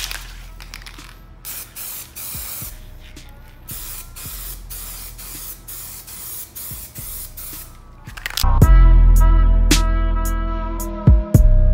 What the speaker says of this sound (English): So we are using the TranStar primer. It's a 2-in-1, so it actually fills in, and it's easy to spray and sand